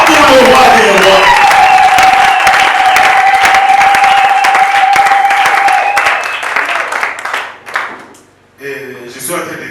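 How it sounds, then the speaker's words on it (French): A church congregation at a Sunday worship service breaks into loud, sustained cheering and applause with shouts for Jesus, the crowd noise filling the room before tapering off near the end. "Est-ce que tu peux bien exagérer en acclamant pour Jésus?"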